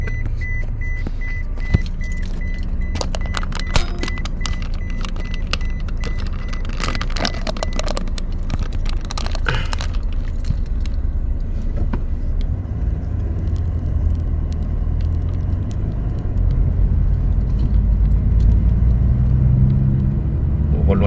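Cars idle and creep along in a traffic jam, a steady low engine rumble from inside a vehicle with scattered clicks and rattles, swelling slightly toward the end.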